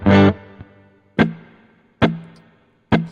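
Distorted electric guitar chords through Logic Pro amplifier simulators with spring reverb ring out four times, each a sharp crunchy strum that decays, with short gaps between them.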